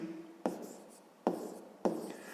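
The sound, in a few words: writing a math solution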